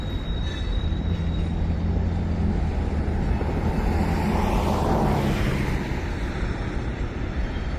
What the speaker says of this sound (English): Super, super long train.